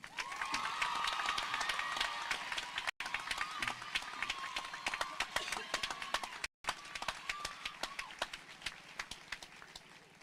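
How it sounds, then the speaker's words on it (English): A crowd at the Tigard High School 2023 graduation ceremony applauds the graduating class, a steady wash of clapping from a large audience that carries on for several seconds, heard from some distance. "And another round of applause for the class of 2023."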